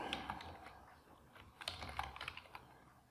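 Keys clatter on a computer keyboard as a MySQL repair command is entered in a shell: sparse, quiet clicks in short uneven bursts, some taps a little louder, with no voices.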